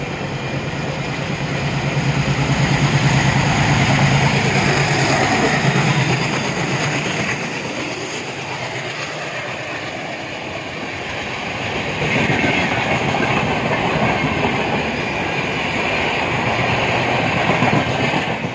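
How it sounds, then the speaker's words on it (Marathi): The Mandovi Express passes on the Konkan railway line, a loud continuous rumble with rhythmic wheel clatter and some metallic screech, rising and falling slightly across nearly twenty seconds, heard close by. "मांडवी ट्रेन आम्हाला क्रॉस करून गेली."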